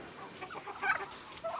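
A Leghorn rooster in a small backyard enclosure gives a few short, soft clucks in quick succession, close by, with quiet pauses between them and no voices.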